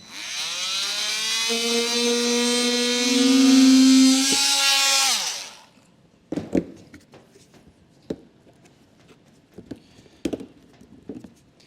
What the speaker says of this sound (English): I use a multi-tool or an oscillating tool